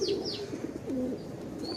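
Soft cooing of racing pigeons close by, a couple of low rolling coos with brief chirps, over a quiet background.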